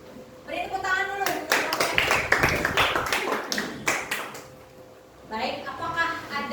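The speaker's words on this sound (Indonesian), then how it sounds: "Beri tepuk tangan dulu." Classmates clap in scattered, uneven bursts for a student group presentation on hydrostatic pressure in a classroom. The clapping is fairly close and lasts a few seconds, and a teacher's voice talks over part of it.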